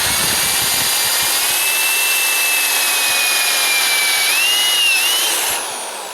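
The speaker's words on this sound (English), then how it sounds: "Now I'm going to drill some 3/16 inch holes." A power drill bores 3/16 inch holes through rusty sheet metal, a steady, loud whine with a shifting high pitch running unbroken for about five seconds before easing off, with no talk.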